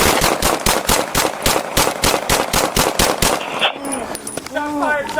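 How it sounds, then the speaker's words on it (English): Rapid gunshots ring out during a police shooting, a long fast string of loud, close shots, after which a dog barks and whimpers and a siren-like wail and shouting voices follow. "Shots fired. Shots fired."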